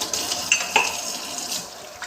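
Dishes being washed under running water, with clinks of pots and utensils and splashing at close range, several sharp knocks standing out over a steady wash of water.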